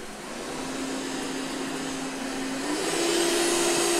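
A ZooZee Z50 robot vacuum cleaner suctioning at close range, a continuous loud whirring hiss with a steady motor tone that steps up in pitch and intensity as the power level changes.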